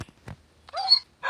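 Dog in the Minecraft video game gives a few short barks and a whimpering yelp, brief and moderately loud, separated by quiet gaps.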